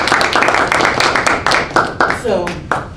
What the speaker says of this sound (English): Give Bart a big round of applause